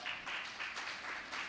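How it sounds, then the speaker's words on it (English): A short burst of audience clapping at a funder and ESO roundtable discussion, several rhythmic pulses of applause in a room, fairly faint and brief. "A round of applause for the ESO platform and the scale platform."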